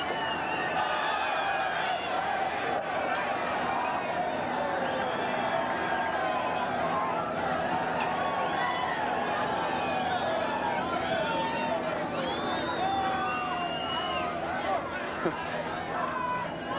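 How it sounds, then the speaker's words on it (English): Holden fans celebrate at the motor racing podium after the 1984 James Hardie 1000, a dense, steady roar of crowd noise with scattered whoops and shouts rising above it, sustained throughout without a break. "The crowd, the Holden fans, wild with delight."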